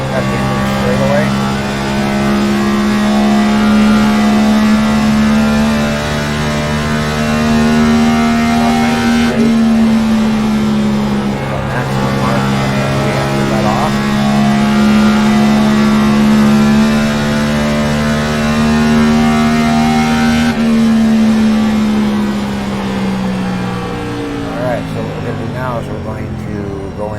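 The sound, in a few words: race car engine revving high near 9,000 RPM down the straight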